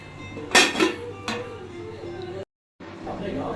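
While kochu shak (taro leaves) cooks, a metal lid goes back onto the pot with a couple of sharp, close clinks and a rattle, and a voice talks in the background.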